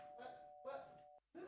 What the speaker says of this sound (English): they're very impatient. They keep ringing the doorbell.